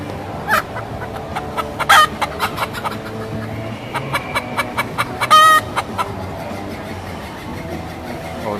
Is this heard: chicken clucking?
yes